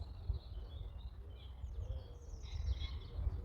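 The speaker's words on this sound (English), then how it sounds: "You hear birdsong, and a lot of it." Several birds chirp and sing in high, scattered calls in springtime among trees over a steady low rumble, fairly faint and at a distance, with no voices.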